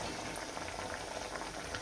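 Sabudana vadas deep-fry in hot oil on a high flame, giving a dense, continuous bubbling and crackling at close range.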